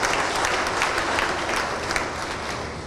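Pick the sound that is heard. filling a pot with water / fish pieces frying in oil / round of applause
round of applause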